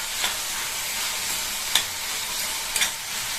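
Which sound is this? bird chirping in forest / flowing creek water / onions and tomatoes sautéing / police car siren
onions and tomatoes sautéing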